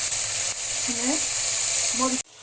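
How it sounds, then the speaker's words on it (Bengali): A ground paste of ginger, cumin, garlic and onion fries in oil, a steady, close sizzle with a voice briefly speaking over it, ending in a sudden cut to near silence. "এই তেলের মধ্যে একসঙ্গে বেটে রাখা আদা জিরা রসুন পেঁয়াজ দিয়ে দিব এবার মশলাটা হালকা করে কষিয়ে দিব"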